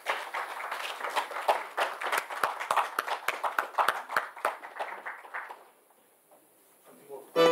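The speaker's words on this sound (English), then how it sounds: "So give a huge round of applause to the sir." An audience at a conference plenary session on technology and sustainability bursts into dense, steady applause that lasts about five seconds and then fades into near silence.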